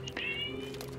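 A cat meows in the video game Enshrouded, a short rising call of about a second over a steady droning game background.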